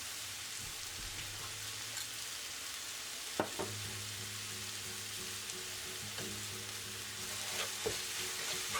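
Tomato paste sauce frying in a pan for stewed beef, a steady, soft sizzle with occasional spatula clicks and stirring scrapes.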